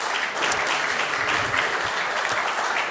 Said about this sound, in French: vous pouvez applaudir parce que vous aviez commencé